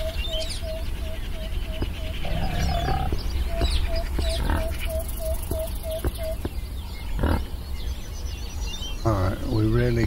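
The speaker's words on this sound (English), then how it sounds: "Come here, pig." Pig grunting in the survival crafting game Under A New Sun, short repeated snorts mixed over a busy in-game soundscape with a steady tonal chirping pattern and ambient noise, at moderate loudness throughout.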